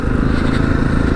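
A Jawa 42 2.1 motorcycle riding along, its engine a loud, steady rumbling drone up close with road noise mixed in.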